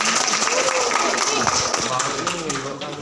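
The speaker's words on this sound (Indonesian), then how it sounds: "Mari kita berikan tepuk tangan." Audience at a school debate competition applauding, dense clapping mixed with crowd noise that holds steady and then tapers slightly near the end.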